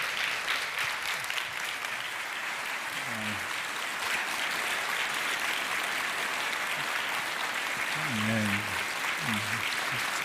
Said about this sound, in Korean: 다시 한번 큰 박수로 환영하겠습니다.